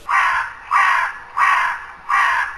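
A raven caws four times in a steady rhythm, each call harsh, loud and close, with short pauses between and no other sound.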